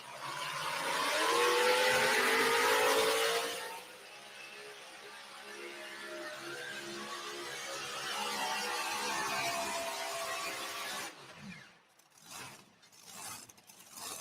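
A pulling tractor called the River Rat, from Cambridge, Iowa, makes its run down the track at a pulling event. A loud, roaring engine blast eases into a sustained, fainter droning rumble, then breaks off into uneven bursts.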